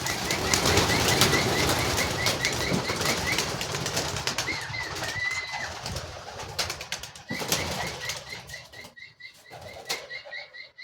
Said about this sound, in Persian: کبوترها رو رها میکنیم.